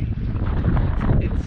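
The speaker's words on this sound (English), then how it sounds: "it's a bit windy out here" Steady wind buffeting the microphone outdoors on the Port Hacking River, a low continuous rumble and roar with gusty swells and no clear talk.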